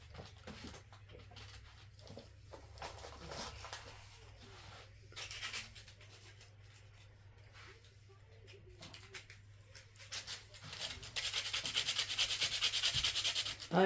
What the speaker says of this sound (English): I'm just sanding it right now